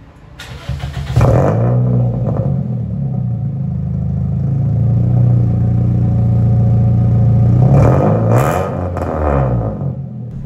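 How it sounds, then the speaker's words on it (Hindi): A car with a swapped engine and modified exhaust starts and revs, a loud, deep rumbling drone holding steady for several seconds before a sharper burst of revs near the end, with no talk. "अभी आपने अपनी गाड़ी स्टार्ट की थी और एग्जॉस्ट की आवाज़ इस तरह से थी जैसे इस गाड़ी के अंदर स्वैप्ड इंजन है"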